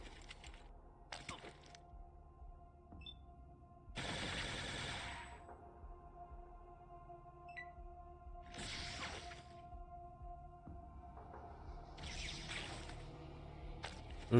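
Gunfire from the post-apocalyptic game Fallout: several short, loud bursts of shots spaced a few seconds apart, over a steady low game hum, with no talk.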